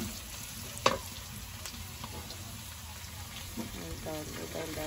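Dal tempering in a pan gives a steady, fine sizzle and crackle of frying with light stirring, close by, and a sharp click near the start. Faint voices are heard in the background.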